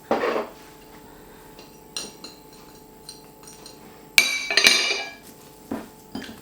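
Lamb kofta patty mixture being mixed with dried herbs in a bowl, with intermittent clinks and scrapes of utensil on the dish, scattered sharp knocks separated by quiet gaps.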